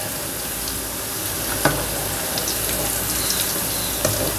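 Cauliflower frying in hot oil until crispy, a steady close broadband sizzle running throughout with a few brief clinks or stirs, no voices.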